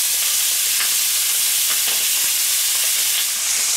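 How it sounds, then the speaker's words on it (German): Veal medallions fry in a hot pan with a loud, continuous sizzle and hiss, broken only by faint crackles, and no voices are heard. "Noch ganz kurz brutzeln lassen"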